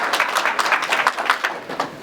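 A small audience at a downtown planning charrette claps briefly, a loose scatter of individual hand claps with audible separate strikes and an uneven rhythm, fairly close and fading toward the end.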